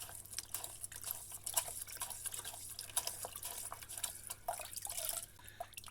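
Water drips and trickles steadily from a squeezed aquarium canister filter sponge, a faint run of small splashes close by with no talk.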